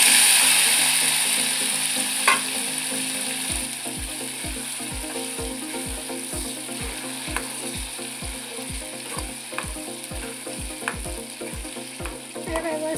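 Spiced masala paste with bay leaf and a spoonful of cumin frying in hot oil for dhaba-style chole, a steady close sizzle with rhythmic spoon scraping and stirring strokes against the pan, no talk.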